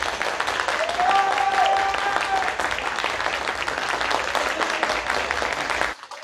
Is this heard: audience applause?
yes